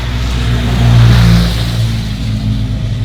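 A car on a mountain road, its engine humming steadily as it passes close by, swelling in loudness around the middle and then easing off.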